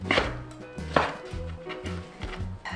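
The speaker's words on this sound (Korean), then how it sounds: "어묵 3장. 이렇게 1cm 간격으로 썰어줄게요." A kitchen knife slices sheets of fish cake at 1 cm intervals on a cutting board, with a quick series of sharp, close chops in an uneven rhythm and no talking.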